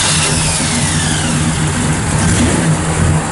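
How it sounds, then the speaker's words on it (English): A numbers-matching 1966 Chevrolet Impala SS with a 327 engine and four-speed runs loud and close, its V8 rumbling in a steady, even idle throughout, with no talking over it. "Again, this is a numbers match 4-speed SS Impala. We'll fire it up."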